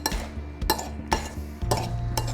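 Vegetables tossed in a bowl with sugar and vinegar for a quick pickle, with several clinking scrapes of a utensil against the bowl in an uneven rhythm, close and clear.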